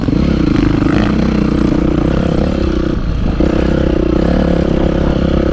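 An old Yamaha YZ450F enduro dirt bike on a rough trail, its engine droning loud and steady throughout with rattling clatter from the ride mixed in.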